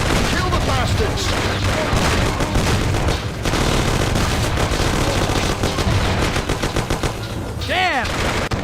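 A gunfight in the video game Mafia 1, with dense, continuous bursts of loud gunfire and rapid shots piling up close, while voices shout over the constant firing.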